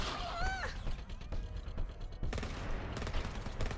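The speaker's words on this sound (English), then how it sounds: "Just let the turrets rip them apart." Automated sentry turrets in the video game GTFO fire rapid bursts of gunfire at enemies, dense and loud, with a brief mechanical whine early on and a short gap mid-clip.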